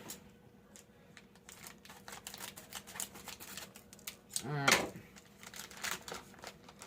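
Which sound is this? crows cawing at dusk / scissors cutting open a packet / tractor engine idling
scissors cutting open a packet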